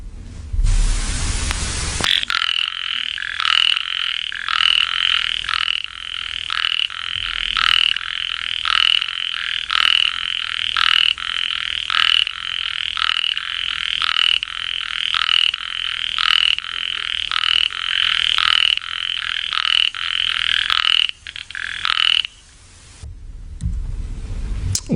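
Tiny microhylid toads from Indian rice paddies call in a rapid, continuous train of loud, buzzy pulses that runs for about twenty seconds, close and powerful, with no voices.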